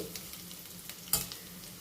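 Cabbage and potato curry sizzles quietly in a pan. A soft stir scrapes through it, with one sharper clack of the spoon partway through.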